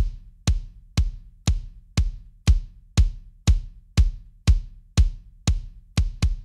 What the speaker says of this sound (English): that's a really well-rounded kick with a lot of punch in the sort of low mid area